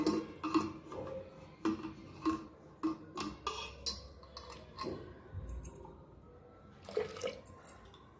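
Water poured into dal (lentils) in a pressure cooker for a drumstick dal, heard as uneven splashes and drips with light clinks of the pot, close and fairly quiet.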